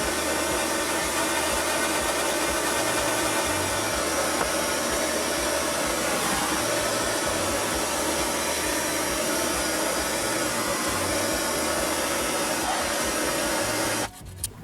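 A heat gun heating a tire blows a steady, loud, close roar with a constant whirring hum that never changes, cutting off abruptly near the end.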